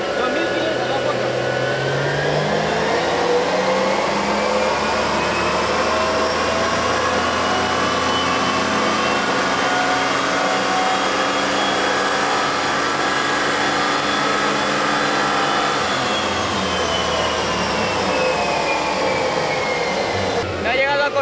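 A Nissan Skyline R34 engine holds a long, loud rev on a dynamometer, its droning tone climbing slowly, sustaining, then easing back, with people talking nearby.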